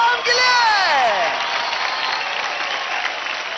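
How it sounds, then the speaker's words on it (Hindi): Audience applause and cheering after a dance performance on a televised dance competition stage, loud and sustained, with broad clapping and a few whoops at the start before it settles into steady applause. "जोरदार ताली हो जाए शाम के लिए"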